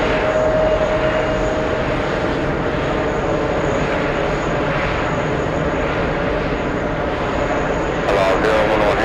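A jet airliner pushing back from gate 1 at JFK Terminal 5: a loud, steady engine roar with a faint whine running throughout, unbroken for the whole stretch.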